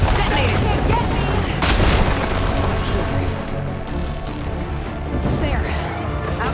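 A loud, sustained explosion rumbles on very hard difficulty in the Burning Shores expansion of Horizon Forbidden West, with crashing impacts and debris over a continuous roar. A voice is heard within the din.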